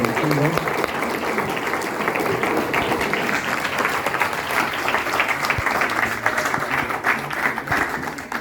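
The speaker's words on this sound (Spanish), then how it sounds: "Si me acompañan con un aplauso para la señora." Audience applause at an engineering talk on soils and soil mechanics studies, a steady dense wash of clapping lasting throughout at moderate loudness with voices mixed in.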